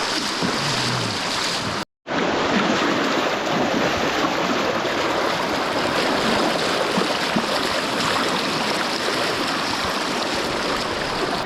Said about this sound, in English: I think this is either the last or the second last sketchy river crossing